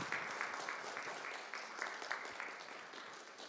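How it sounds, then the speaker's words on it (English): A round of applause rises from the audience for the technical team at a circular economy launch event in Nairobi, with continuous, moderately distant clapping and a few sharper claps standing out. No voices are heard. "Let's give them a round of applause as well."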